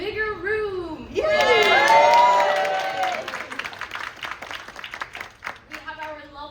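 Audience applause and cheering fill a room at a UK Games Expo panel on women in tabletop role-playing games. A voice speaks first, then a loud burst of clapping and whoops swells and fades, with talk resuming at the end.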